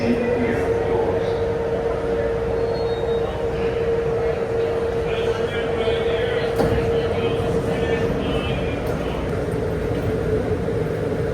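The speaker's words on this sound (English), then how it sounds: "Train arriving. Please see clear of doors." An airport terminal shuttle train in Chicago hums steadily as it arrives, with a constant mechanical drone and a spoken announcement over it.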